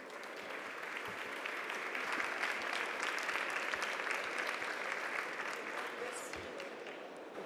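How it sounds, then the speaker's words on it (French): Steady applause from a conference audience after a talk, dense clapping filling the room at an even level from start to finish with no voices over it. "On peut encore vous applaudir"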